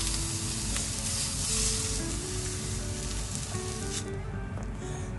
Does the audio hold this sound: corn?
yes